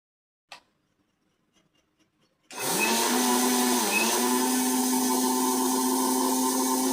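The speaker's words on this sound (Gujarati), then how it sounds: "આજ તો જો મિક્સર કાઢ્યું છે આજ રાજગરો દળી નાખીએ" Mixer grinder grinding rajgara (amaranth seeds) into flour: after a few faint knocks, the motor starts abruptly and runs loud and steady with a high whirring drone and gritty rattle for several seconds.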